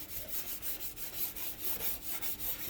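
Rhythmic scrubbing strokes over a glass stove cooktop, a steady back-and-forth rubbing repeating about twice a second, close and fairly quiet with no voices.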